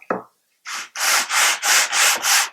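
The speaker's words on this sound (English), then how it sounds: "So I'll do like 10 strokes sanding, just like you see here." Wood is rubbed back and forth across a luthier's flat sanding plate, a short scrape followed by a steady run of five or six rhythmic, raspy sanding strokes, close and loud with brief gaps between passes.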